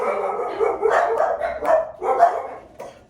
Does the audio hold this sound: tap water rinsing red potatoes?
no